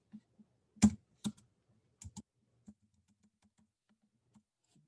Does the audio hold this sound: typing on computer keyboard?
yes